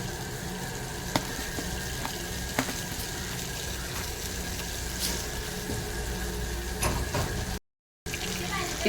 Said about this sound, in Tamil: வெந்தயம் பொரியட்டும்.